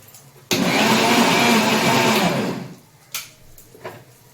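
An electric blender grinds boiled potato and other ingredients for a chickpea curry, a loud steady whir running about two seconds before winding down, followed by a couple of faint knocks.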